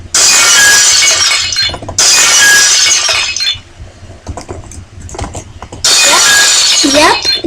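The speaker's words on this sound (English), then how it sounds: "You should hear breaking glass." Glass from a Minecraft resource pack shatters in loud bursts, three times in a row with pauses between. Someone talks in the quiet gaps.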